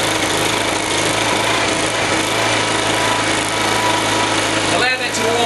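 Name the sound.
909 Tools I3000 generator running after pull-cord start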